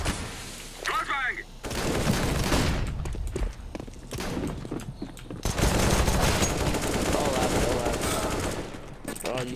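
Gunfire in the video game CS:GO: loud, sustained automatic bursts and rapid shots in long dense stretches, broken by a short lull, with players talking over the action.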